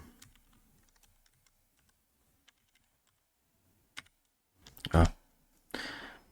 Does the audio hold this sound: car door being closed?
no